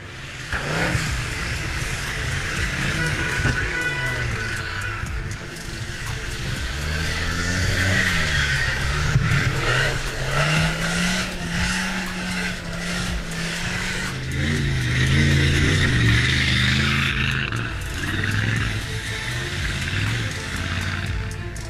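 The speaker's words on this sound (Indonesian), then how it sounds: "Kemarahan sebuah mesin V adalah argumen kuat melawan setiap rintangan di luar jalan." Off-road truck V engine roaring through deep mud at the Croatia Trophy race, loud sustained revving that rises and falls with straining gear changes, continuous and close throughout.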